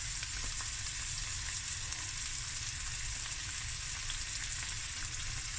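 Curry leaves sizzle hard in hot oil in a pan with prawns, a steady, loud, unbroken frying crackle with no talking.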